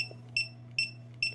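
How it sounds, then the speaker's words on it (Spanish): Metal biometric access control keypad giving three short high electronic beeps at an even pace over a low steady hum, close and clear. "Nos da el bip largo indicándonos que fueron eliminados todos los usuarios."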